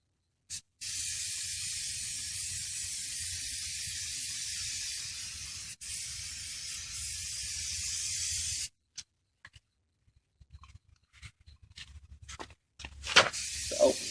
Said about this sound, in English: So I'll just go ahead and start spraying